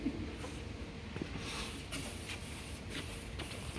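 A jar-type spraying attachment screwed onto an aerosol can sprays paint onto a Triton in a series of short, fairly faint hissing bursts.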